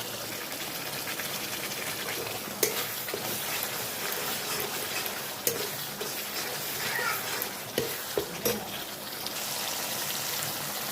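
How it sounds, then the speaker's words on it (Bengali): Spice paste with turmeric frying in oil while being stirred, a steady close sizzle running throughout with occasional sharper scrapes and taps of the spoon against the pan. "মশলাটা আমি কষিয়ে নিচ্ছি সামান্য হলুদ দিয়ে দেবো এর মধ্যে"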